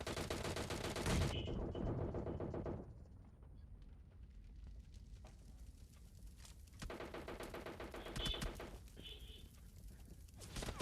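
Gunfire in the battle-royale video game PUBG, with dense bursts of rapid automatic shots filling the first few seconds and returning loudly after a quieter stretch, while players talk faintly underneath.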